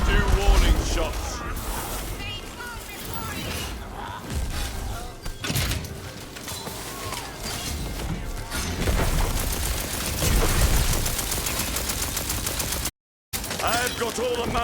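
Gunfire in the video game Tiny Tina's Wonderlands, dense rapid shots and booms in a busy game mix, with speech running over much of it.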